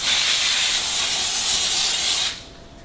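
A steady, loud cooking spray aerosol hisses continuously for about two seconds onto parchment paper, then cuts off abruptly, leaving quiet room tone.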